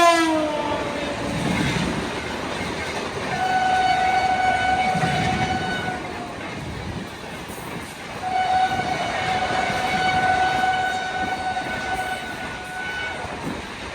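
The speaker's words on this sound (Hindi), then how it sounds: "और बड़ी ही तेजी से कोई ट्रेन कानपुर की तरफ से आ रही है।" A train rushing in fast from the Kanpur direction on an Uttar Pradesh line, its horn sounding in long repeated blasts over a loud rumble of wheels and cars.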